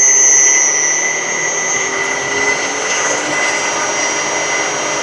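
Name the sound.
belt grinder motor on VFD running at full speed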